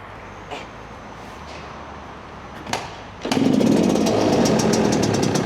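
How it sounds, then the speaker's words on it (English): A cold Yamaha YZ125 two-stroke dirt bike with the choke on, kicked over a couple of times before it catches and settles into a loud, raspy, buzzing idle close by. "Let me see if I can start it like this, or if I'm gonna have to take it off the kickstand"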